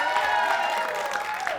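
A studio audience on an Uzbek TV show claps steadily in dense, even applause lasting the whole moment, with no talk over it.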